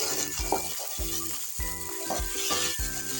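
Ginger and chili paste sizzle steadily in hot oil while a spoon stirs and scrapes the pan in a quick, regular rhythm, close and continuous throughout.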